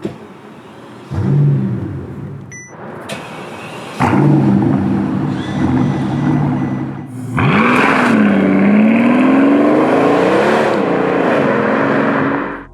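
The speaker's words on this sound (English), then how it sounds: "the main draw of this car is the biturbo V12 engine. It's incredibly smooth and produces a unique sound." A Mercedes CL65 AMG biturbo V12 engine idles, then revs up in rising surges, a loud smooth roar that climbs and holds close by.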